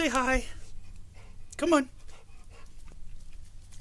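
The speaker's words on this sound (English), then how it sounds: "There's a dog that just runs around out here." A puppy pants and whimpers close by, with short quick breaths and a couple of high whines over faint background noise.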